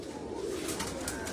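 A Lal Pari pigeon on a rooftop coos in a low, continuous murmur, close and fairly loud, with faint clicks and rustling above it.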